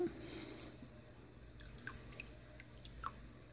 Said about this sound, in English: There's going to be a lot of water dripping sound in this